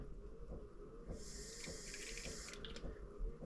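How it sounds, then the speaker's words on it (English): Cold water runs from a tap into a baby bottle lid, a short soft hissing stream that starts about a second in and stops near the end over a low background hum. "You need to fill that up to 20"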